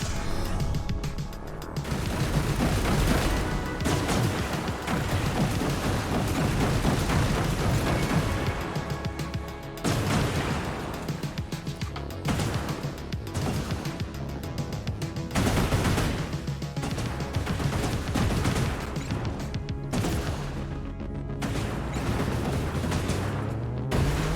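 Rapid machine-gun fire and heavy booming explosions from a space battle between fragile ships in the video game Industries of Titan, dense and continuous with brief pauses between bursts.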